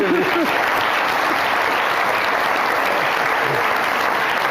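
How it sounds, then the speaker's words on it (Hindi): Studio audience on a talk show applauding for Kinza, a steady, dense wash of clapping that carries on evenly throughout, with a voice briefly heard at the start. "तो बहुत सारी तालियां किनसा के लिए।"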